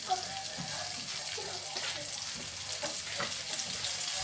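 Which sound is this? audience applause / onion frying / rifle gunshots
onion frying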